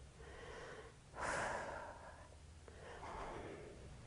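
Heavy rhythmic breathing during a legs-and-triceps home workout, close and quiet, with a stronger forceful exhale in the middle and steady breaths around it.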